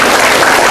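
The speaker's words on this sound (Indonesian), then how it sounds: "aplaus dulu dari teman" An audience applauding at a public lecture, a dense, loud wash of clapping that fills the short moment without a break.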